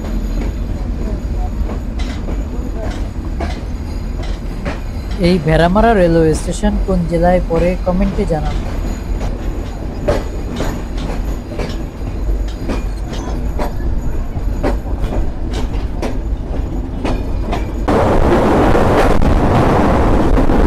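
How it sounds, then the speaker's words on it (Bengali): The Kapotaksha Express rolls along the rails between Bheramara and Mirpur stations in Bangladesh, a steady rumble with wheel clicks, a whistle-like tonal squeal early on and rising wind noise near the end, under a narrator's voice. "দুপুর 4:25 আমাদের ট্রেন এসে থেমে গেল মিরপুর রেলওয়ে স্টেশনে।"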